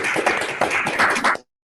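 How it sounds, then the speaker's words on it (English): An online audience, unmuted at once after a mathematics lecture at Imperial College London, claps in a short, ragged burst of overlapping applause that cuts off abruptly. "I'm going to unmute everybody, and we can all applaud"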